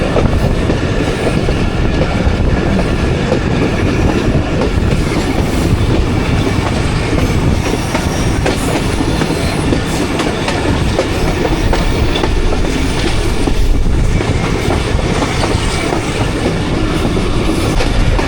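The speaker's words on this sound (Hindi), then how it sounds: "पहाड़ों के नीचे से टनल के अंदर से ट्रेन निकल रही है" A Jaffar Express train emerging from a tunnel under hills between Attock and Rawalpindi rumbles steadily along the rails with a continuous low roar and rhythmic clatter of wheels, loud and close throughout.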